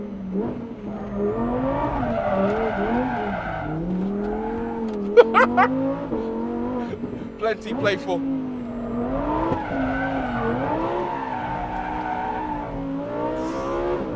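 A Lamborghini Huracan Tecnica, a mid-engine car, slides with a droning, rising and falling engine note and sharp bursts of tire squeal midway, while a driver speaks briefly.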